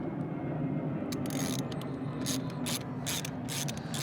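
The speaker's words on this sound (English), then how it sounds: "All you got to do is get a 10mm socket and loosen up these bolts." Ratchet on a 10mm socket loosening the battery terminal bolts of a 2018 Chrysler Pacifica, in bursts of crisp rapid clicking over a steady background hum, close up with no talk.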